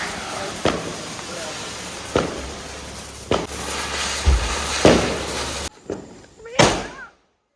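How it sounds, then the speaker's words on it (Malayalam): Firecrackers burst outdoors during Vishu celebrations, a series of sharp loud bangs spaced a second or so apart over steady background noise, ending with a final blast and then silence. "വിഷുവായിട്ട് പടക്കം പൊട്ടിച്ചുകൊണ്ട് നിൽക്കുന്ന കണ്ടപ്പോൾ"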